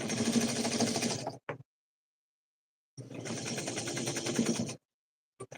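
A sewing machine stitches in two close, steady runs of rapid needle clatter, each lasting over a second, separated by a silent pause, with a brief restart at the very end.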